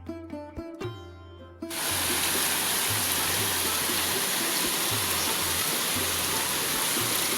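Steady, heavy rain hisses loudly and continuously after a brief tonal sound at the start, with no voices.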